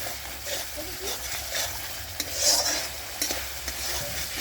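Spice masala sizzles and fries in a pan on a wood-fired stove as it is stirred with scraping strokes, close and fairly loud, with a voice talking faintly in places.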